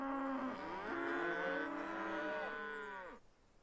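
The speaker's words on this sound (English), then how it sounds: "I can moo now." A cow in a video game lets out a single long, loud moo that bends and slides in pitch for about three seconds before stopping abruptly, heard alone without talk.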